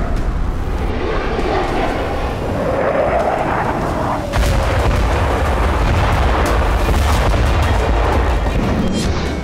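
Strikes from bombs, shells, missiles and rocket launchers in war-torn Ukraine, heard as a loud, dense, continuous roar and rumble with a rising whooshing tone, then heavier booming low rumble throughout.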